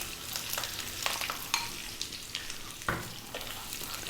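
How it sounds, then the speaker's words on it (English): Beetroot frying over high heat in a pan, a steady close sizzle with occasional louder scrapes and clatters as the pieces are stirred, fairly quiet and without speech. "Then we're going to drop in the beetroot."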